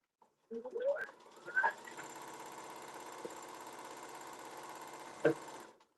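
A sewing machine stitching a seam while mending a garment runs in a steady, even mechanical whir for several seconds after a couple of short starts, with a clunk near the end.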